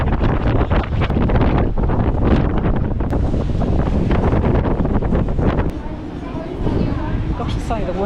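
Strong wind buffets the microphone while walking across a newly built pedestrian bridge in central Brisbane, a loud continuous roar that eases briefly near the end, with people talking under it.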